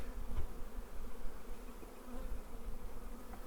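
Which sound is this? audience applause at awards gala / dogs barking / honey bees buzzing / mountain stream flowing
honey bees buzzing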